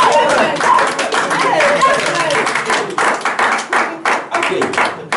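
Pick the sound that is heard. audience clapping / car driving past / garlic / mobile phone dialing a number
audience clapping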